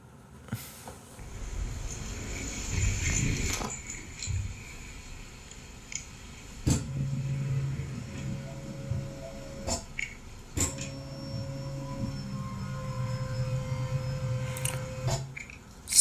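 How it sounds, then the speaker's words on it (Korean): Motor inside a motion bed running, a low steady hum with a faint whine that shifts as the bed moves, broken by sharp clicks and thumps, quiet and close with no talking. "모터 소음."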